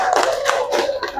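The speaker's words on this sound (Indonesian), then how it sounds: "Silakan tepuk tangan untuk kelompok era Kartini." A primary school class claps in unison for a student group, a few quick rhythmic claps over about a second, close and clear.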